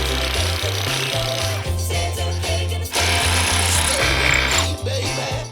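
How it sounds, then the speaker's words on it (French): A drill bores into the centre of a stuck screw during the restoration of an abandoned boat, giving a loud, continuous, rattling mechanical grind that holds steady for several seconds with brief dips. "on va percer la vis au milieu"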